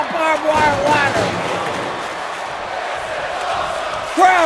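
Arena crowd in the WWE 2K25 wrestling game roars in a steady, dense wash of cheering beneath loud commentary, swelling briefly at the end.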